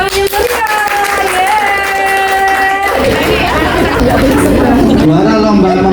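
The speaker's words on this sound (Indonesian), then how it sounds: "Beri tepuk tangan yang meriah." At a competition for flipbook and animated stories, a sustained tone plays first, then a dense, loud wave of audience clapping and crowd noise follows, with voices mixed in.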